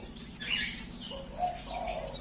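Zebra finches give a few soft, close calls and chirps over a short stretch, with light rustling and wing movement in between.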